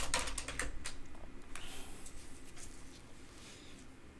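Typing on an ergonomic computer keyboard, a quick run of clicky keystrokes at the start that thins out to sparse taps, faint and close.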